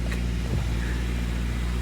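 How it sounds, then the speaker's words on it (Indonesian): Steady low engine drone and road rumble from inside a moving car, constant and fairly quiet with no talking. "Naik mobil lagi guys."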